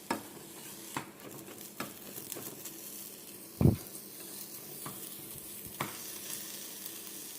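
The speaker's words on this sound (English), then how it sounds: "The onions are in. We're going to finish off cooking those." Onions frying quietly in a pan, a soft steady sizzle broken by occasional clinks and scrapes of stirring, one sharper knock near the middle.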